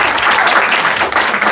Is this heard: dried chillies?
no